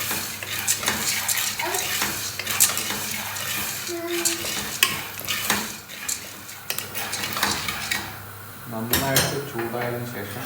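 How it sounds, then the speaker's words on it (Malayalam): Popcorn kernels are stirred in a pan over medium flame, with repeated scraping and clinks of a utensil against the metal pan and a soft sizzle underneath, close and steady. "നന്നായിട്ട് ഇളക്കി കൊടുക്കുക."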